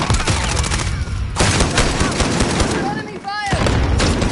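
Gunfire in Call of Duty: Modern Warfare, with continuous heavy automatic bursts and overlapping shots, loud and close, alongside brief game sound effects.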